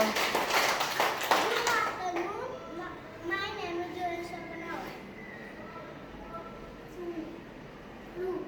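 Schoolchildren clap their hands in a quick burst at the start, followed by children's voices and an adult talking.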